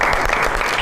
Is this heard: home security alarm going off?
no